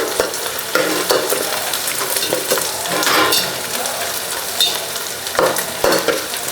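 Onions and green chillies sautéing in a pan for coconut milk fish gravy, a loud continuous sizzle broken by frequent scraping stirs and light clatter of a spoon, with no voices.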